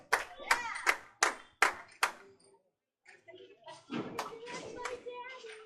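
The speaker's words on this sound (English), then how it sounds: "The crowd goes wild." At a candlepin bowling final, a handful of spectators clap in about five sharp, separate bursts, then go quiet before excited voices and chatter rise.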